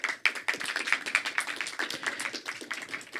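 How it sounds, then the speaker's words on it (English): A small audience claps steadily for a panel taking the stage at a BFI Future Film Labs event, with dense, fairly close hand claps running continuously without a break. "Big round of applause, come on"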